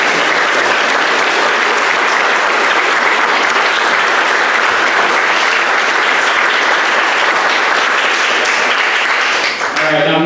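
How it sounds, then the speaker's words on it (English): Forum audience at a VA candidate event gives a round of applause for the speakers, loud, sustained crowd clapping filling the room without a break, with a voice rising near the end. "Can we give a round of applause for our speakers?"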